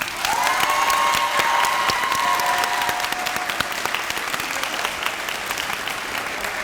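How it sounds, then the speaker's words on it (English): Sustained applause from a large audience at a 2024 early college graduation ceremony, with a high whistle or cheer early on, steady clapping continuing and slowly fading. "Let's give our graduates one more round of applause."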